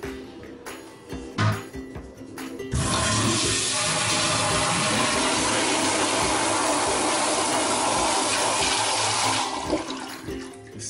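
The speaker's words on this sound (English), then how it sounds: "There is a lot of water." Water rushes loudly and steadily through a leaking toilet flushometer for several seconds after a few clanks and knocks of handling, then eases off toward the end.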